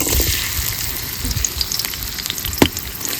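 Chopped onions hiss and crackle in hot oil, browning into crispy fried onions for chicken biryani; a steady, close sizzle with a brief louder spatter near the end.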